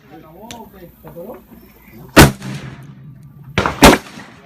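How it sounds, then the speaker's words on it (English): Two sharp, loud M1 Garand rifle shots in the World War II shooter Hell Let Loose, each a hard crack with a short tail, about a second and a half apart, preceded by someone talking. "Hell Let Loose portrays its weapons very realistically, and its rendition of the M1 Garand is no exception"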